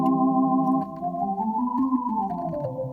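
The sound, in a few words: Lowrey organ 16 and 4 tabs played together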